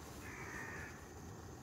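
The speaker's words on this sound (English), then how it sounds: "hi Mr. Crow" A crow caws outdoors in cold 3°C weather at a woodland camp beside a fallen-tree debris shelter, with a brief harsh call standing out over steady background noise.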